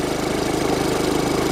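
A car engine idles just after a jump start, with a close, loud, steady rumble and an even pulsing rhythm.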